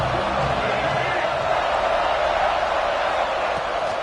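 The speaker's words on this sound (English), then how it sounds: "This crowd ready to make its presence known." In the Madden football video game, a stadium crowd roars steadily as a dense, even wash of cheering, with a commentator talking over it.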